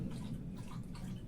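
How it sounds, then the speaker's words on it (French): A dog laps water in a home on a hot day, a soft, continuous wet lapping heard close and quiet with no voices over it. "vous allez peut-être entendre le chien qui boit"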